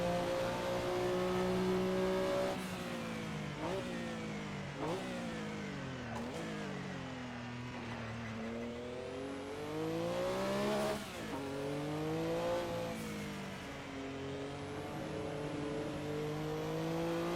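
A sim racing video game car engine revs up and down through a corner, its pitch sweeping repeatedly as the throttle is worked, steady and fairly loud with no talk.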